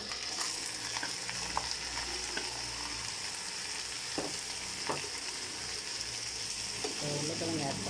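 Cut potatoes frying with onion and garlic in a pan for a potato fry, making a continuous sizzle with occasional stirring scrapes throughout.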